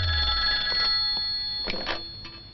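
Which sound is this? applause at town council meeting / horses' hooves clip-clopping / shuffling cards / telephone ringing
telephone ringing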